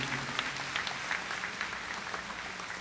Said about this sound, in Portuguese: Deem um aplauso a Jesus pela vida dele.